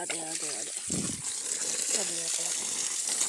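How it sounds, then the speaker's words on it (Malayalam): A household electric water pump motor runs, giving a steady, continuous rush of pumped water that holds even throughout, with people talking over it. "മോട്ടർ ഓണാക്കിയിട്ട് നമുക്ക് നോക്കാം."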